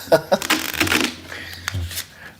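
Cards riffle and flutter in quick bursts close by, a brisk shuffle with a voice speaking briefly alongside.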